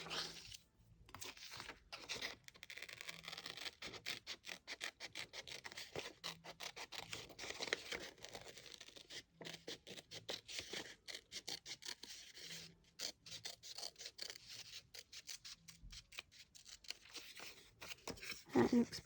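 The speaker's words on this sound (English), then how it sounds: "I'm going to be very careful this time to try and cut it" A wooden ornament being cut out along a marked line, with a steady run of close, dense rasping, scraping strokes that continue with brief pauses throughout, no talking.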